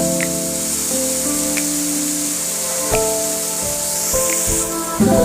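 Chicken pieces fry in a pan for chicken soup, giving a steady hissing sizzle beneath prominent background music, with a few soft clicks of the pan.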